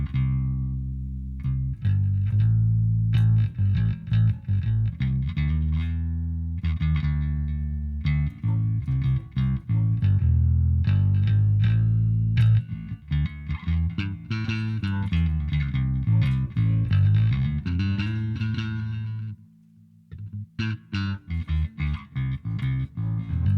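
A Temu electric bass from a build-it-yourself kit, played with both pickups turned all the way up, gives sustained, close notes that change pitch through the phrase, with a brief drop near the end and no voices.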